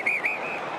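An umpire's whistle at an AFL match between St Kilda and Richmond gives two short shrill blasts that merge into a fading tone over steady crowd noise.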